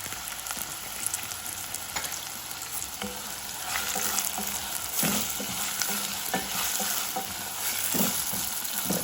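Green chilies with mint fry in a hot pan for tomato rice, a continuous dense sizzle with occasional stirring scrapes, close and steady throughout with no talking.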